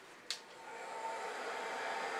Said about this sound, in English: This 1500 watt heat gun is like a hairdryer on steroids